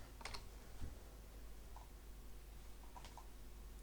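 Computer keyboard keys are pressed while someone models a table in Blender. A few quiet, sparse clicks and taps sound close by against faint room hiss, with no talking.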